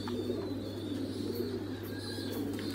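Young pigeon squabs, about ten to fifteen days old, coo softly on a pigeon farm, faint and repeated over a low steady hum.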